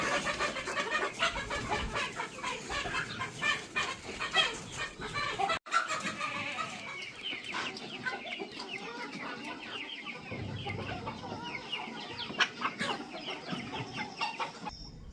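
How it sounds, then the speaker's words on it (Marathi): A flock of chickens clucking and squawking continuously, busy and close, with farmyard background noise and no talking. "इकडे फक्त कोंबडे"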